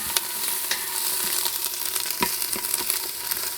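Half a diced onion sautéing in hot oil in an Instant Pot, with a continuous close sizzle and intermittent stirring clatter as it is tossed about.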